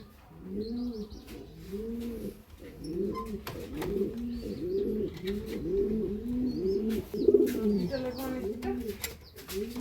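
Silver Sirazi pigeons in a cage coo close by in repeated soft, low, rolling phrases, with a few faint chirps and background rustling.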